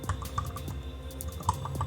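Someone types a command on a computer keyboard in a quick run of close, crisp key clicks with small irregular pauses, and no one speaks.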